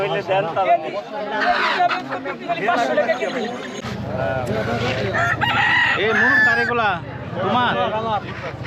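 Chickens at the traditional rural Goyhatta Bazar in Nagarpur, Tangail, crow and cluck loudly and close by, mixed with constant market chatter and voices talking over them.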